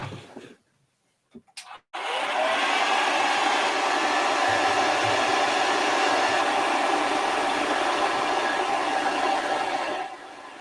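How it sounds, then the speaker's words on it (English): A hairdryer blows steadily and loudly for about eight seconds, drying paint on a miniature model, then cuts off, with a few faint clicks before it starts. "gonna hit that with a hairdryer and see how it's looking"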